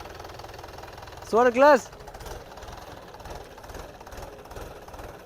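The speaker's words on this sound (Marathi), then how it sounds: "केलं ट्रॅक्टरचे तर चालू." A farm tractor engine runs at idle, a steady low rhythmic chugging throughout, with a short stretch of speech over it.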